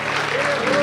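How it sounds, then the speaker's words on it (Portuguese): A congregation claps for the Lord during a church worship service, a brief wash of applause with a faint sustained tone running beneath it. "Uma salva de palmas ao Senhor."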